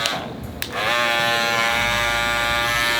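A cordless Masters hair clipper switches on and runs with a loud, steady, harsh buzz after a couple of soft clicks.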